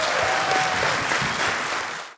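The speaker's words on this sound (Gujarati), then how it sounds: "આ રાજા રાણી માટે તાળીઓ થઈ જાય એવરીબોડી." A studio audience on a talk show claps for two guests, a dense, loud burst of applause that holds steady and then cuts off abruptly.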